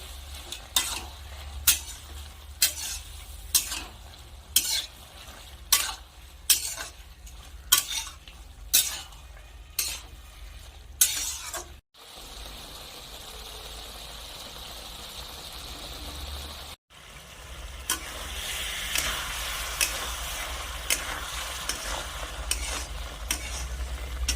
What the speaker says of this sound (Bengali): ভাজা চিংড়ি ভালো করে মিশিয়ে নেব।